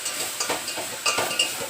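Spices stirred in hot oil for a tempering, quick close scrapes and light clinks of a spoon over a steady sizzle.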